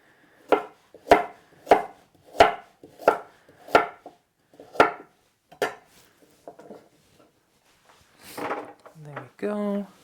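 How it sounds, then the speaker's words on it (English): A kitchen knife chops carrots into large pieces during meal prep, with about nine steady, evenly spaced, loud thunks on a cutting board, then a few softer cuts and some handling noise near the end. "cut those into large pieces as well."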